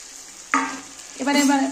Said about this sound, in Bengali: দেখো এবার একটু সামান্য জল দিয়ে দেব।